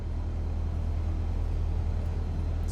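Engine and rushing wind from a simulated Reims C172 with 210 horsepower, heard with the windows open in Microsoft Flight Simulator 2020. The roar is constant and broad, with a low engine hum under a brighter airy hiss.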